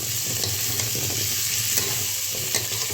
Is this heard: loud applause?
no